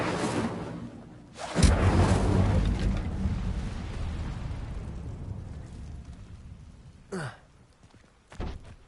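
Incendio fire spell cast in Hogwarts Legacy: a sudden loud whooshing burst of flame that swells and slowly fades over several seconds, followed later by two brief sharp swishing effects, with no voices.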